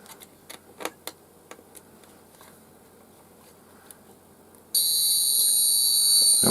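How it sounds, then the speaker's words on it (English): A few faint clicks, then a burglar alarm kit sounds, a loud, shrill, continuous high-pitched tone that starts abruptly and holds steadily. "the alarm sound that you can hear in the video is way louder than it is in real life"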